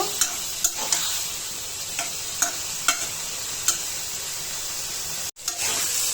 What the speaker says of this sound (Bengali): সবজির সাথে মশলা ভালোভাবে কষিয়ে নিব